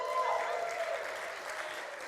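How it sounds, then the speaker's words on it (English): Audience applauding and cheering at a Unitarian Universalist service ceremony, a steady dense wash of clapping that stays loud throughout and tapers slightly toward the end. "you're really cheering the announcements"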